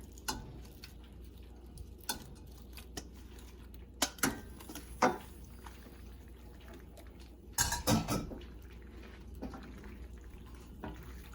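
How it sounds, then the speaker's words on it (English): Cooked pasta tipped into a pan of shrimp mozzarella sauce, with scattered clinks and scrapes of utensil against the pan and a louder cluster of clatter midway, all fairly quiet with no talking. "So now we are going to add in our cooked pasta."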